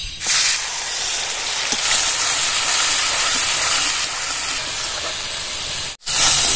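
Onion paste dropped into hot oil for a Bengali koi fish curry gives a loud, continuous, close sizzle and hiss that runs unbroken, cut briefly near the end.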